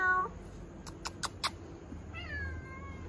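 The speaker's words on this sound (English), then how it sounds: "She was here, I just heard her meowing." A kitten meows twice in short high calls, fairly close and clear over quiet outdoor background, with a faint voice at the very start.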